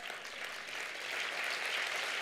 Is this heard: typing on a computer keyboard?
no